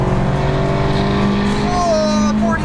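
A small Bronco 4x4 engine revving hard through first gear toward about 6,000 RPM during a 0-60 acceleration run, a loud, rising engine drone with a climbing pitch near the end and constant road noise throughout.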